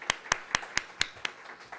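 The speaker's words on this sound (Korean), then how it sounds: "박수로 환영하는 시간을 갖도록 하겠습니다" A church congregation claps to welcome back a member returning from military service: six crisp, evenly spaced claps in a steady rhythm, moderately close in a quiet room.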